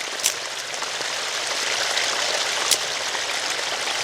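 Water flows steadily to irrigate a vineyard, a continuous rushing, trickling wash with a couple of faint splashes and no voices.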